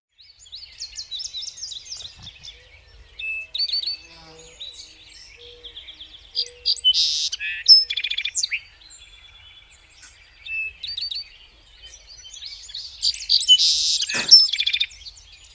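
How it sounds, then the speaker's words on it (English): A song sparrow sings repeated bright phrases, each opening with an introductory note and running into buzzy trills, in clear bursts separated by short pauses. "The song sparrow."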